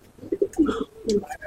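Pigeons in a loft coo close by in a few short, soft throaty bursts, with a voice faintly speaking between them.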